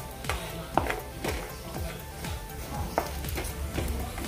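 Two medium onions, sliced lengthwise, fry in the oil left after roasting coconut for a Khandeshi shev bhaji rassa. A close, steady sizzle runs throughout, broken by repeated scraping stirs and light taps of the spoon against the pan.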